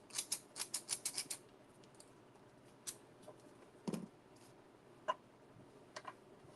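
Cheap scissors snipping and shredding paper edges: a fast run of about ten crisp, close cuts, then scattered single snips and rustles, faint and without talk.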